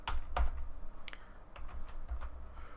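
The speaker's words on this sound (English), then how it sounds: "can I type now?" Computer keyboard typing during a Linux terminal session, heard as a few scattered, close key clicks over a low background hum.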